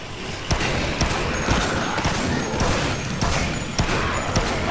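Gunshots in Dead Rising amid a zombie fight: a dense run of sharp, evenly spaced shots cracks over a continuous noisy clatter of game action, fairly loud and close.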